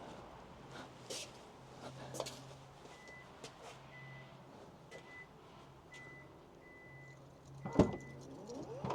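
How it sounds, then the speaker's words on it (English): A Kia EV9 power tailgate opens on its own, a regular series of thin electronic warning beeps evenly spaced over a faint motor hum, then a sharp thump near the end, quiet and close. "there's some warning beeps, and then the thing opens"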